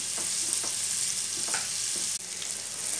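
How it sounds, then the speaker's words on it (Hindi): Onion fries in a pan for white sauce pasta, giving a dense, steady sizzle up close with a few stirring clicks and one sharp knock. "अभी जो कंदा लिया वो ऐड कर रहा हूँ मैं और वो भी 2 मिनट फ्राई कर लूँगी"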